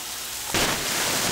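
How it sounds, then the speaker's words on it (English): Steady rain falls, with a dense hiss that grows suddenly louder partway through and keeps a heavy, even wash to the end, with no talk. "now we're hearing a rain"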